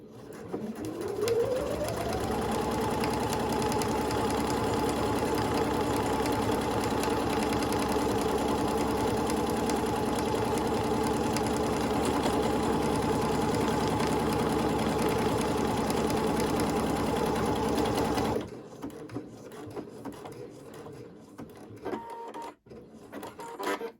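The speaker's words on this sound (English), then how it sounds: "So now I'm going to needle down and do my buttonhole." A domestic sewing machine stitches a buttonhole on shorts, whirring up to a steady fast hum that runs continuously for about eighteen seconds before stopping abruptly, followed by a few faint handling clicks.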